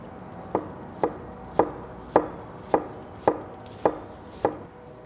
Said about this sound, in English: We'll make one more cut this way and then shred this up.